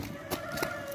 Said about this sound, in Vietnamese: Ê, con ngựa kìa. Đó, con ngựa kìa